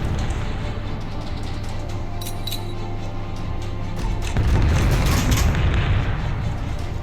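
Warship cannons fire in the Battle of Warship video game: a heavy, loud boom bursts in partway through, over a constant dense rumble of battle noise with faint metallic clinks.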